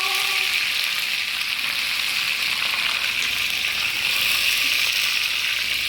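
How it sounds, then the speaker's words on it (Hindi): Mustard seeds tempered in hot oil for a chutney tadka give a loud, steady, close sizzle and hiss that runs unbroken for the whole stretch, with no talking. "अभी ये चटनी पे मैं तड़का दूंगी। राई डालेंगे।"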